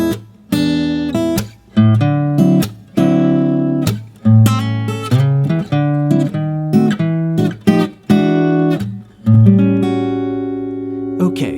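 Blues guitar turnaround at a slow pace, A dominant seventh barre and diminished chord shapes played over a descending chromatic bass line, dense strummed and picked chords with short gaps, loud and close.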